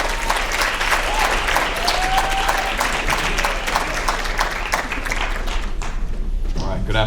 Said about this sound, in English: please put your hands together and help me in welcoming Kevin Coble